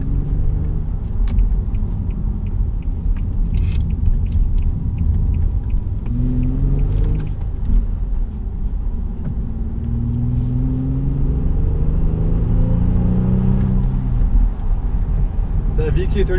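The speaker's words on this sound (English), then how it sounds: "The VQ37 engine sounds wonderful, but you can definitely feel the coarseness." An Infiniti G37 IPL coupe with a six-speed manual and VQ37 engine rumbles steadily from inside the cabin, rising in pitch as it revs up through the gears.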